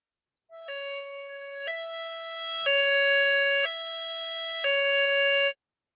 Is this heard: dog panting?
no